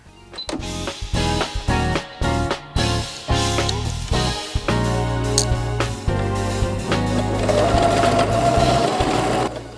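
Sewing machine stitching a buttonhole on a dress, a close, loud run of rapid mechanical whirring with short stop-start bursts at first, then a longer continuous stitching stretch.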